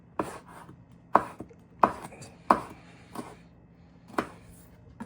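A knife chops chili pepper on a cutting board in a kitchen, giving several sharp, separate knocks a fraction of a second to a second apart, close and clear over a quiet background.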